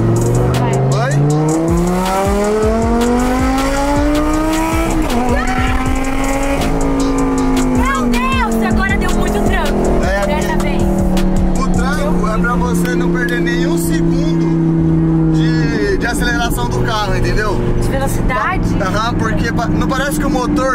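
Lamborghini engine in Corsa mode pulls hard from inside the cabin, its loud rising roar climbing through gears with shift breaks while occupants talk over it.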